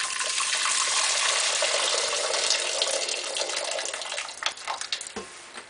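A litre of boiled water pours from a jug into a vessel for a homebrew yeast starter, a steady gushing splash that thins into trickles and drips near the end.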